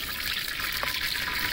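Oil sizzles and spits in a kadhai that still has some leftover water in it, a steady hissing crackle close by with no break for the short moment.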